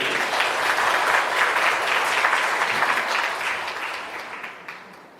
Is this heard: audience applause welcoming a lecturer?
yes